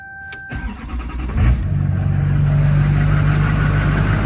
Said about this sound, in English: Crank it over, watch for the plugs to go out.